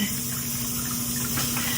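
A household toilet flush rushes steadily with running, gurgling water throughout, close and fairly loud with a low hum underneath.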